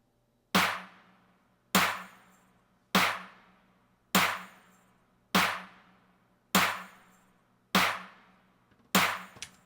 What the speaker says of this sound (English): So if you add all these snares,